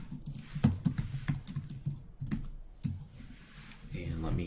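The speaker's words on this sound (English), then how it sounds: "let me go ahead and hit control period on my keyboard" Computer keyboard being typed on while someone works through a Windows 10 programming lesson, giving a run of close, uneven key clicks mixed in with talking.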